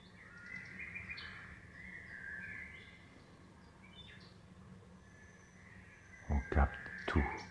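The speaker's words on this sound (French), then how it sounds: "Le chant des oiseaux paisible." Peaceful birdsong in a calm outdoor setting during a yoga session, soft chirps and warbling calls over a steady low background hum, with a few louder thumps near the end.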